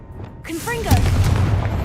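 The Confringo blasting spell in the video game Hogwarts Legacy: a short rising magical whoosh, then a loud booming burst that rumbles on to the end.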